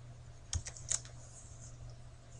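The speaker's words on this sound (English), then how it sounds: "type an equal sign, and then the letters IRR for internal rate of return" A few quick keystrokes on a computer keyboard while entering a spreadsheet formula, a short cluster of light clicks close by in an otherwise quiet room.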